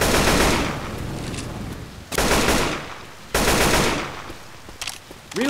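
Bursts of automatic gunfire in Left 4 Dead 2, three loud sustained volleys separated by brief lulls, with a few scattered shots toward the end and no talking.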